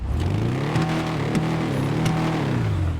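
A Faction Custom car engine in GTA Online, a steady, close engine drone that rises and falls in pitch as it revs, loud and continuous with no talking.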